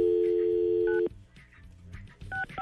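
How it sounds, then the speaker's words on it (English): Telephone keypad tones beep at the start of a phone call played on a radio show: one long steady tone, then shorter beeps with quiet clicks between them. "says we'll play the phone call"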